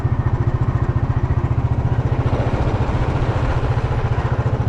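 Motorcycle ridden on a cool forest road near Vadattupara, its engine thumping in a steady, rapid, even rhythm close by and loud throughout, with no talk.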